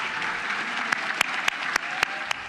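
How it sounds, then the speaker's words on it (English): Lawmakers applaud Florida Governor Scott at the opening of the 2017 legislative session, a steady wash of chamber-wide clapping with several loud close claps punching through at irregular intervals, no speech over it. "With cheers and applause"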